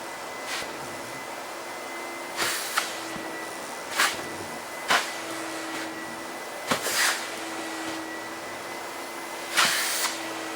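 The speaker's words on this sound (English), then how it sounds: "then I want to fire up my vacuum and pull some of the dirt out of it" A vacuum cleaner pulls dirt from a carpet during dry cleaning, running with a steady drone broken by repeated sharp whooshing surges as each pass is made, about six strokes in ten seconds.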